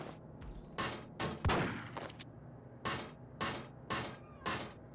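Enemy gunfire in Max Payne: around eight sharp, fairly quiet shots in irregular bursts, some clustered and some spaced apart, with faint clattering between them.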